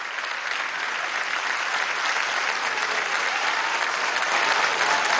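A large audience applauds community doctors at a health gathering in Venezuela, giving steady sustained clapping that swells slightly toward the end.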